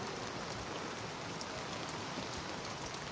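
Rain pattering on a convertible lorry, a steady dense hiss of drops close by, even and continuous with no talk.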